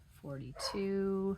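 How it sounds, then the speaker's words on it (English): A house dog gives a short bark and a whimpering yelp close to the microphone, heard just after a person speaks a word. "Sorry about my dog."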